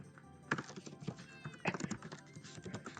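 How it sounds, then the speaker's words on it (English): Frantic typing on a computer keyboard: rapid, uneven bursts of quiet key clicks and clacks, close up, with a couple of sharper flurries. "just frantic typing"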